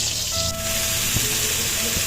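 Drumstick leaves frying in a pan with garlic, green chilli and onion give a steady loud sizzle and hiss, with a few soft clinks near the middle and end.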